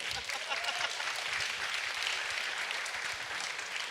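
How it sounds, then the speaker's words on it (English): An audience at an AI technology panel bursts into steady applause, a continuous crackle of many hands clapping through the whole stretch, with faint voices mixed underneath. "it's sad that you're all applauding"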